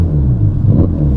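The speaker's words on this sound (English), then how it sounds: "this is what a twin turbocharged V8 engine now sounds like" A 2022 Ferrari Portofino M's twin-turbocharged V8 idling loud and close, with a deep steady rumble that swells slightly in a short blip partway through.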